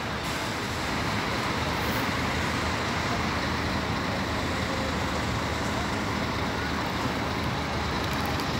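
Bus pulling out of the Belo Horizonte bus station at night, a steady broad engine and road rumble that holds at an even loudness throughout, with general station traffic noise around it and no clear talk.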